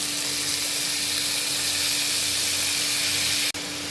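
Drumstick stalks go into hot oil seasoned with nigella seeds and fenugreek, producing a loud, steady hiss of frying that carries through, with a sharp knock near the end.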